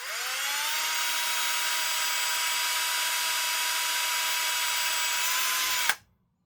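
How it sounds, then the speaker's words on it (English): A power drill bores a hole through a plastic ratcheting bar clamp, its steady high whine running for about six seconds before cutting off abruptly. "We're going to drill a hole through."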